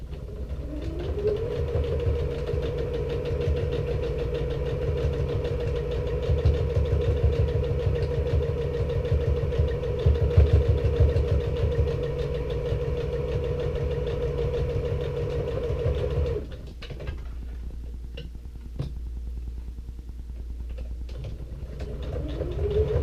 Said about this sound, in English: I want to run a line of stitching here just to secure this card slip here